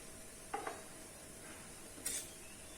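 Vegetables for a veg Franky fry quietly in a pan as garam masala and salt are stirred in, with a faint steady sizzle broken by two brief spoon scrapes.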